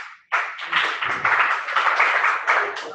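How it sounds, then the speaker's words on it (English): Classroom applause for a student answering correctly, a burst of many hands clapping close by that starts abruptly and continues steadily for a few seconds. "Clap for her, please."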